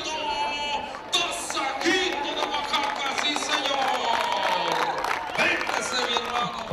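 Crowd at a rodeo in Grayslake, Illinois cheers and applauds with scattered whoops and whistles, a steady roar mixed with voices shouting over it.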